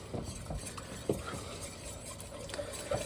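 A whisk stirs milk into a bechamel sauce for macaroni and cheese, making soft, quiet scraping and sloshing with a few small clinks against the pan, and faint talk in the background.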